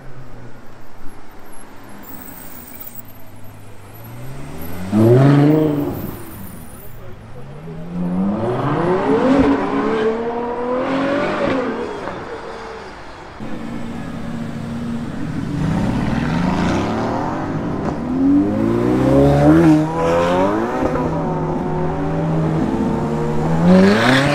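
A supercar engine revs hard in a charity supercar run, rising and falling in long loud sweeps as the car accelerates past. No one speaks.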